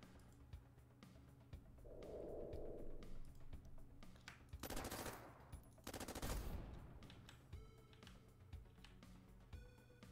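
Gunfire in the video game Bionic Dues: rapid bursts of shots crackling over a steady game background, with two loud volleys in the middle.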